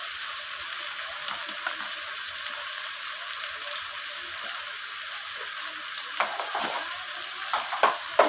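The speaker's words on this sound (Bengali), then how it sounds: "তো সমস্ত কিছু মশলাকে আলুর সাথে এইভাবে নাড়াচাড়া করে একটু কষিয়ে নিচ্ছি" Potatoes and ground spices (turmeric, red chili, cumin) sauté in a pan with a steady sizzle, with a few soft stirring scrapes near the end and no voices.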